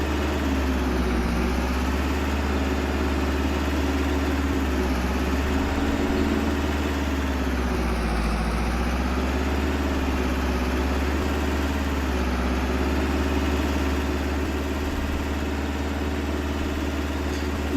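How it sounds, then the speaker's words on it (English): Small tractor idling in Farming Simulator 22, a steady, loud mid-pitched engine drone held unchanged for the whole stretch, with no talk. "Nice little tractor. Is it too loud for me like this?"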